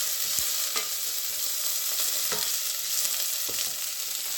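Garlic and green chillies frying in hot oil in a pan for stuffed radish paratha filling, a steady close sizzle with a few soft clicks of stirring, no talk.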